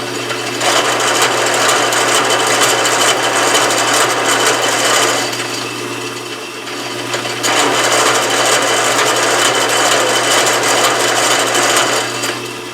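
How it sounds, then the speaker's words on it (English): A South Bend 11-inch metal lathe faces off the end of a nut. The cut makes a loud, steady, gritty whir over a low motor hum, with a short dip in the middle before it picks up again. "Facing off the end of this nut, it's just a little bit thicker than I'd like it, mostly for cosmetics."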